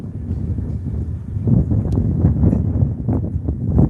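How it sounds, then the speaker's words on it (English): Loud, low rumbling wind buffeting the microphone, gusting and swelling in strength, with no voices. "it's windy right now"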